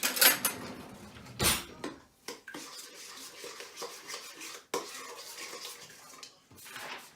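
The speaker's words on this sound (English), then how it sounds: "And I'm going to whisk that together with a whisk that I don't own. So we're going to use a big spoon." A big spoon mixes sticky bun batter in a bowl, heard as uneven scrapes and clinks of metal against dishware, with a few sharp knocks and gaps between strokes, close up and fairly quiet.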